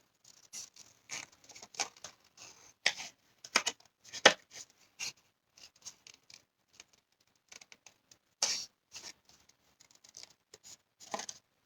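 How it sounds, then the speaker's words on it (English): Scissors snipping out small stamped card pieces for a bridge fold card, quick irregular bursts of short crisp cuts and paper rustles separated by brief pauses, close and fairly quiet with no talk. "I'm going to very quickly cut them out"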